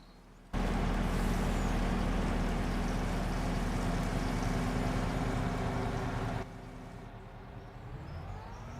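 A truck in Farming Simulator 25 gives off a loud, steady engine drone that starts abruptly, holds at a constant level, then drops to a quieter hum.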